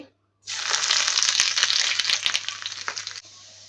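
Chopped ginger dropped into hot butter in a pan sets off a loud, dense sizzle that starts abruptly, crackles steadily for nearly three seconds, then cuts down to a quieter fizz.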